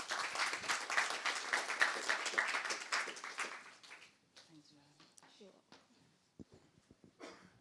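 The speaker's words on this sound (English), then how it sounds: "please give her a round of applause" Audience applause for a panel chair at a health-sector panel event, a dense burst of clapping for about four seconds that then thins out and fades, leaving faint scattered noises.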